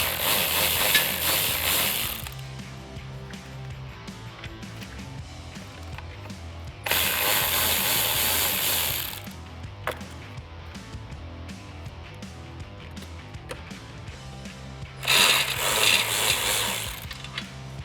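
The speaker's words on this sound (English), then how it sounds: "with a ratchet and a 10mm socket, we're going to remove the 4 bolts located around the stock fog light" A ratchet with a 10mm socket backs out the bolts around the stock fog light on a 2021-2022 Ford Bronco. Rapid clicking pawl rattles come in three loud bursts between quieter handling and mechanical noise, close to the microphone.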